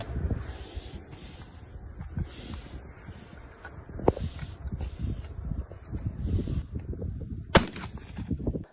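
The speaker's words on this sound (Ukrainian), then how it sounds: "От дядя Ігор стріляє." Sharp gunshots crack at irregular intervals outdoors at a shooting range over a rustling, windy background, some shots close and loud, others more distant.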